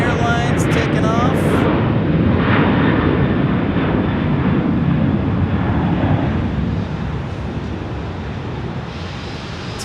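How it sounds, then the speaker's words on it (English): A United Airlines jet takes off at Phoenix Sky Harbor, its engines a loud, steady roar that fades slightly toward the end, with faint talk in the background. "United Airlines taking off."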